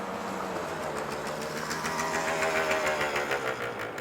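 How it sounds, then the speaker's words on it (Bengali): A scooter engine runs steadily and fairly loud on a busy roadside along GT Road, a continuous mechanical drone with a rattling pulse and no voices over it. "হাঁ করে একটা স্কুটার এসে পাশে থামল"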